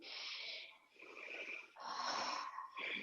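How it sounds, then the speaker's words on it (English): A person takes a slow, deep breath in and out during a mindful sunrise exercise, heard close as several airy, hissing passes with a wheezy, slightly nasal edge. "take one deep breath, close your eyes"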